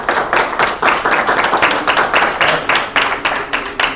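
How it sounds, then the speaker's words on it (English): A small audience claps at an agriculture breakout session, a few close, distinct hand claps in a quick uneven rhythm, fairly loud and without talk. "So I'd like to give a round of applause to Lindsay and Rachel."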